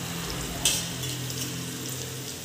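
Onions and green chillies fry in a pan with spices, giving a steady close sizzle broken by one quick clink of a spoon stirring early on.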